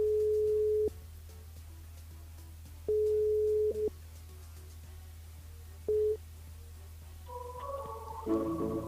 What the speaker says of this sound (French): Ok, donc on appelle Stéphanie ce soir